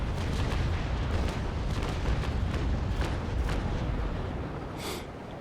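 Ship cannons fire in a Naval Action sea battle duel aboard the Belle Poule, a dense rumbling barrage of booms with sharp bursts layered over continuous low roar, loud throughout.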